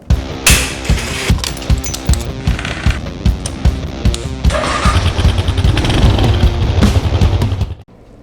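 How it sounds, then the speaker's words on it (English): A KLR650 Gen 2 motorcycle engine runs close by while its SW Motech skid plate rattles and buzzes with metallic vibration, clattering irregularly before cutting off abruptly at the end. "we have a definite vibration issue with the SW Motech skid plate for the KLR650 Gen 2"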